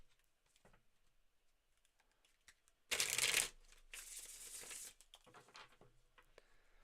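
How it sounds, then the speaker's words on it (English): Tarot cards being handled and shuffled during a psychic reading show, quiet soft clicks and rustles followed by a louder burst of riffling card noise, then lighter handling again. "Don't know if you can hear that clicking."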